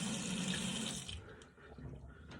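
Running tap water rinses a yellow safety razor, a steady splashing hiss under the faucet that thins out partway through as the razor moves in and out of the stream.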